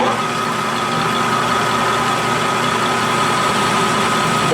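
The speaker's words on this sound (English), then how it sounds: "So now we're going to go to boring. I've sped back up to 300 RPM, and I'm going to go in with a feed rate of 9 thousandths a revolution." A metal lathe boring at 300 RPM with a fairly aggressive feed of nine thousandths per revolution. It gives a steady, loud mechanical drone with tonal whine and a constant hum, running unbroken throughout with no talking.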